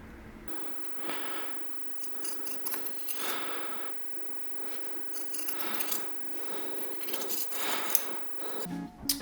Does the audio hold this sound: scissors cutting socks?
yes